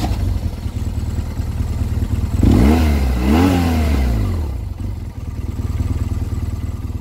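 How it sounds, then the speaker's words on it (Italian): A BMW boxer twin motorcycle engine idles with a low, steady exhaust throb, then is blipped twice in quick succession, its pitch rising and falling before settling back to a smooth idle. "I motori boxer hanno un funzionamento straordinariamente rotondo e pastoso, anche in quanto le fasi utili risultano distanziate uniformemente, cosa che rende molto piacevole pure la tonalità di scarico"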